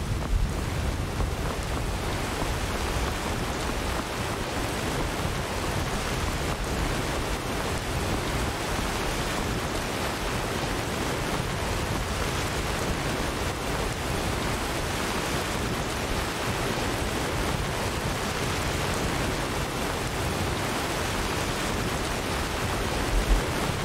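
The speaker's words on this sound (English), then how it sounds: "Oh, it's starting to rain again." Steady, dense rain hiss in Skyrim Special Edition fills the scene without a break, an even wash of noise with no voices.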